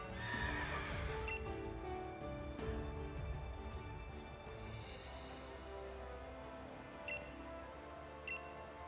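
Horse neighing in the Pokemon Sword and Shield DLC video game, a loud drawn-out whinny at the start followed by clip-clop hooves and game background sounds, with no talk over it.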